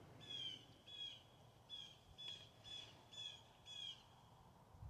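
Birds chirp outdoors in a repeating series of about seven short, bright calls at a moderate distance, with faint low background noise and no talking.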